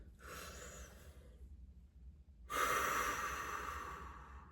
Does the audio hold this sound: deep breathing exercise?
yes